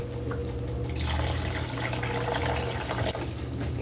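Water pours into a pot of thick chorizo chili beans, a soft continuous gushing stream starting after a moment and running steadily at low volume.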